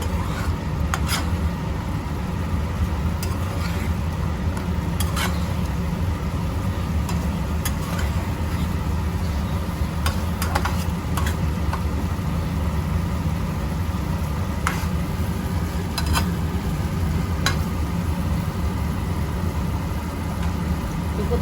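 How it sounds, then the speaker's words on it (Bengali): Fried fish pieces are stirred into a sizzling pan for restaurant-style chilli fish, giving a steady low frying hiss with scattered clicks of the spatula against the pan throughout. "এবার সে ভেজে রাখা মাছগুলো দিয়ে দিচ্ছি এখানে ভালো করে এটা মিশিয়ে নেব"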